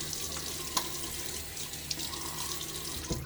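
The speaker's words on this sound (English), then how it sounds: "Let me splash my face with some water." Water runs steadily from a tap as a face is splashed before shaving, with a few small splashes and clicks breaking through the constant rush.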